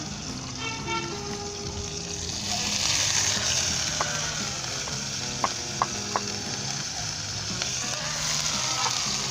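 Ginger, garlic and green chillies fry in hot vegetable oil with a steady, close sizzle. A few sharp clicks of stirring come through near the middle, and nobody speaks.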